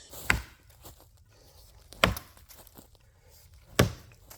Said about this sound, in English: As someone using a 36-inch axe and just slamming it.